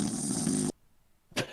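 A man imitating a drunk character's snoring with his voice, a loud rasping snore-like sound that stops abruptly, followed by quiet and then a short second burst.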